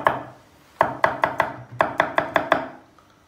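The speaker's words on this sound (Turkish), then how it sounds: "Hemen 3 diş de sarımsak doğradım." Knife chopping garlic cloves on a cutting board in a home kitchen, one stroke then a quick run of about eight sharp, evenly spaced close chops, with no talk.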